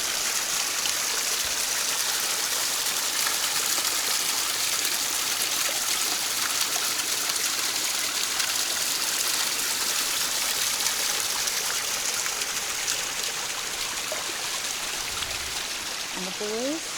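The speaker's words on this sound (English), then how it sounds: "the pretty little waterfall" A small waterfall and stream on the Loyalsock Link Loop Trail rush steadily and close by, a continuous bright hiss of falling water with no pause throughout.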